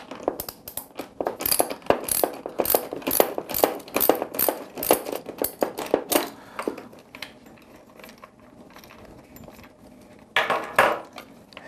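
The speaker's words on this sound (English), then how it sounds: "we're going to use a socket wrench to unloosen this nut, and our deep socket wrench is 13 millimeters" A 13 mm deep socket wrench loosens a nut on a medical training mannequin's head with rapid, close metallic clicking and ratcheting in dense bursts for about six seconds. Then a pause, sparse taps and a final short burst follow.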